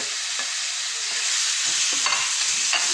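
Beef mixed with shallot, salt and turmeric sizzles and fries in a hot pan, a close, continuous hiss with brief stirring scrapes, no talking.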